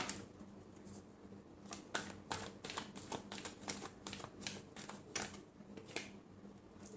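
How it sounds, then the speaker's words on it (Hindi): Tarot cards being shuffled, heard as rapid, crisp, light clicks and riffles in quick irregular bursts. The sound is close but quiet, with no talking. "Last shuffle."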